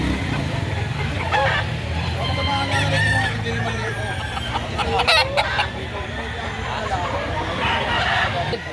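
Chickens at a market stall where a year-old rooster is up for sale, with crowing and clucking rising from a busy, noisy background and voices talking throughout.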